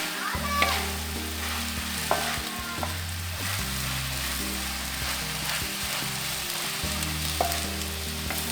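Onion, pepper and meat sizzle in a pan over a village wood fire for saç kavurma, with a continuous frying hiss, occasional scraping stirs and a low engine-like drone underneath.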